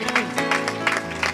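Church congregation clapping together in a rhythmic, repeated applause during a worship service, steady claps over singing and a voice.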